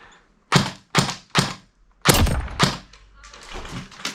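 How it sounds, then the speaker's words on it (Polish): Airsoft gun firing at an airfield game site, with three sharp close thunks in quick succession followed by a louder crack and a muffled voice talking. "To był daleki strzał"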